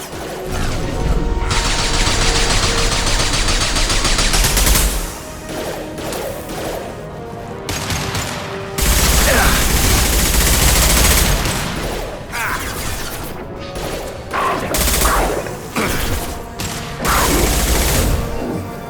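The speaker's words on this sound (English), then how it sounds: "Firing an impact shot!" Impact shot gunfire in the video game Mass Effect Legendary Edition: loud, dense bursts of rapid shooting and crashing impacts in several long volleys separated by brief lulls, close and without talk.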